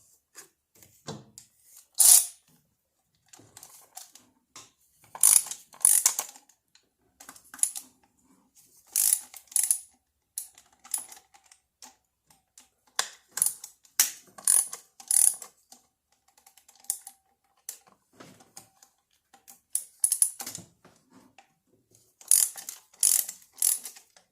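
A hand ratchet breaking loose steel injector bolts set in aluminum on a Cummins engine, bursts of sharp clicking pawl ratcheting separated by pauses, close and clear in a quiet shop, no talk.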